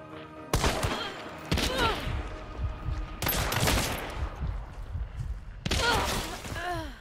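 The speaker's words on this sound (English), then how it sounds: "I love how the gun just shoots when I pull the trigger." Bursts of gunfire from a gun in the video game Hunt come in several loud, sharp volleys with ringing tails, spaced a second or two apart over a steady background.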